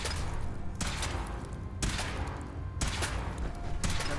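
Heavy gunfire rings out in Fallout 4 during a power armor test, four loud bursts spaced about a second apart over a dense rumbling background.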